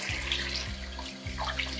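Water runs from a tap while yarn skeins are rinsed, a steady rushing stream with a few low thuds of handling mixed in, close by and with no voices.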